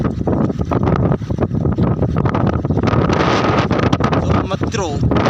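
Strong wind buffeting the microphone near a dam, a loud continuous roar and rumble throughout with no letup; a few brief tonal squeals near the end.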